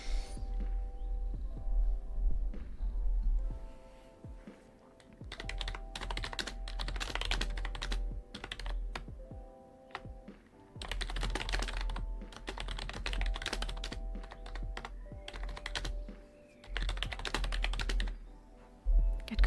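Continuous typing on a computer keyboard in a soft-spoken ASMR work session, with clustered bursts of key clatter and short pauses over a low steady hum.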